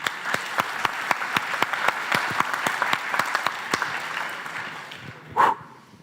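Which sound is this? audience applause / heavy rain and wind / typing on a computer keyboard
audience applause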